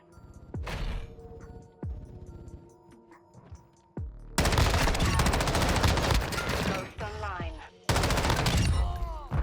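M13b rifle fire in Call of Duty Modern Warfare 2, a few sparse shots at first, then long loud sustained automatic bursts with brief gaps, someone talking over the start.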